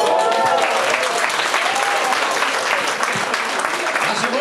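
Loud, steady applause from an audience at a Škoda club birthday event, greeting the unveiling of a new Škoda concept car as a gift, with dense clapping filling the whole stretch and a few voices mixed in.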